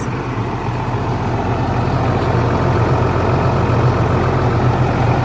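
A 2007 New Holland TVT195 tractor with a 195-horsepower Sisu engine idles steadily, a constant loud low rumble close by with no other sounds.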